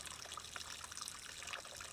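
Coolant draining from a 1982 Jeep CJ7 during a cooling system flush, a steady trickling, splashing stream of liquid heard close and continuous with no voices.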